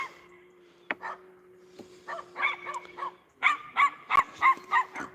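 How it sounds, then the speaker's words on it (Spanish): Small fox-like dogs of an old breed bark in a quick run of sharp, high yaps, sparse at first and then a rapid series of about eight close barks, with a faint tonal hum underneath. "Son perros chiquininos, son como zorros, mira."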